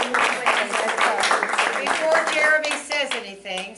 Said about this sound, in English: cheer for Jeremy